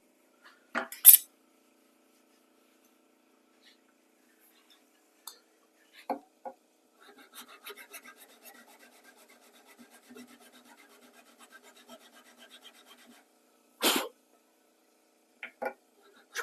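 A hard ebony scraper drawn across mahogany gives soft, dry rasping strokes with small woody clicks and taps, quiet and close, separated by near-silent pauses.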